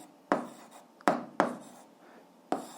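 Handwriting of an algebra answer on paper, with four distinct scratchy pen or chalk strokes heard close up at an uneven pace.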